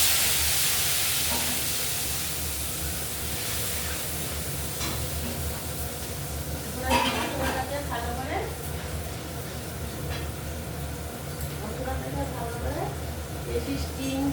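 Spices hitting hot mustard oil in a pan for a Bengali katla fish curry with ridge gourd and potato, giving a steady broad hiss and sizzle throughout, with brief bursts of sharper crackle midway and speech over it.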